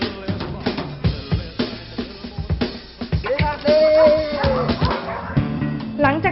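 Dogs in obedience training, taught to follow a trainer's commands in a bomb-disposal and rescue setting, bark and yip repeatedly at close range, with whimpers and a rock song playing loudly underneath.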